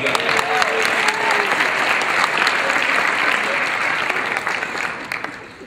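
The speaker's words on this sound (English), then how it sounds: "let's give him a round of applause" Audience applause at a State of the Schools address, a steady dense clapping that fills the room for several seconds before thinning slightly at the end, with a voice faintly audible underneath.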